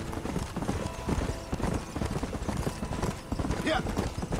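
Horse hooves gallop in the Red Dead Redemption video game, a rapid rhythmic clip-clop pounding steadily throughout as someone speaks over it.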